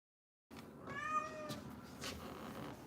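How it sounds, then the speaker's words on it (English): A house cat gives a single drawn-out meow, close and fairly clear, with a second softer vocal sound after it, in a quiet indoor room with no one talking. "My cat said bye."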